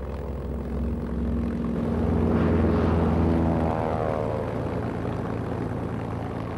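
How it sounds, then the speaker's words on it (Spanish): A German propeller-driven warplane drones past during a wartime bombing campaign, its steady engine roar swelling to a peak midway and then easing off, loud and continuous with no voices. "aviones alemanes iniciaron una intensa campaña de bombardeos contra la Gran Bretaña"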